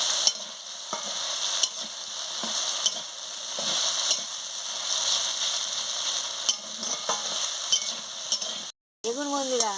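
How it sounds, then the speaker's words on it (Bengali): Fried elephant apple pieces being stirred with sugar in a pan, a loud close sizzle broken by regular spatula scrapes and knocks, with a short gap near the end. "চিনিটা দিয়ে ভালো করে একটু নাড়িয়ে নিচ্ছি"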